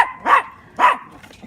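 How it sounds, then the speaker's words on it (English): A dog barks twice while chasing around the outside of a trampoline, two sharp close barks about half a second apart followed by a faint yip. "She's running on the outside of the trampoline, and Lucy is chasing and barking at her"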